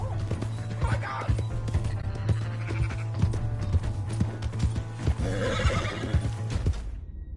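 A horse neighs and whinnies with hoofbeats clopping in Red Dead Redemption 2, over a steady low hum and busy game sounds, with voices shouting nearby throughout.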